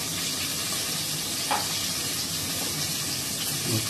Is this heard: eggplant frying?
yes